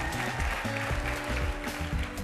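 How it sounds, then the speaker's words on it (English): Audience applause at a live talent show: dense, sustained clapping from a crowd with steady rhythmic hits, loud and continuous throughout. "Big round of applause to him, ladies and gentlemen."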